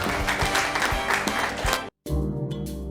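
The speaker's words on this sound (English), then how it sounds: "we do like hearing the applause, so keep it coming" A studio audience on a talk show applauds as the program breaks for commercials, with dense, steady clapping and crowd noise running loud until a sudden brief dropout, then continuing.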